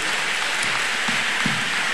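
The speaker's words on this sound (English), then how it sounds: "Clap for Jesus" A congregation clapping during a church deliverance service, a steady, dense roar of many hands with faint rhythmic accents, loud and continuous.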